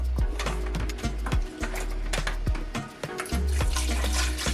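Tap water runs steadily into a kitchen sink while raw pork is washed, with splashing and intermittent clatter of meat and a bowl under the constant flow.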